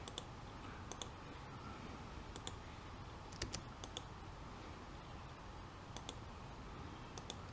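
Computer keyboard presses and mouse clicks while drawing a cabin model in SketchUp: scattered soft, crisp taps at irregular intervals, some in quick pairs, faint and close over a low background hiss, with no speech.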